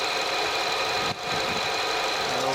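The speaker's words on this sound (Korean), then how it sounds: "엔진을 한번 들려볼게요" A Nissan Altima sedan engine idles steadily with a dense, even mechanical hum and faint ticking, close and continuous with a momentary dip partway through, no talk.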